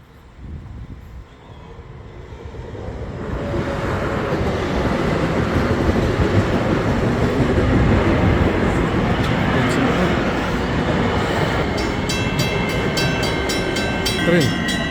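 A train rumbles past beside a bakery, a loud, steady broadband roar with rattling and faint squealing, building up over the first few seconds and holding, with a voice speaking over it.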